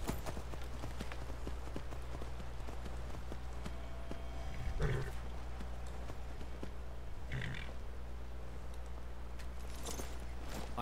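Horse hooves in the video game Skyrim, a few faint, soft clip-clop steps standing out now and then over a quiet, steady ambient background, with no voices.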